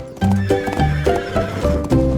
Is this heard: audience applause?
no